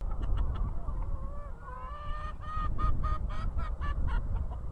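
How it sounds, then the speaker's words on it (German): Several chickens cluck and squawk excitedly, their calls overlapping in a busy, agitated chorus close by, with rustling and low background noise underneath. "Die hysterischen Hühner"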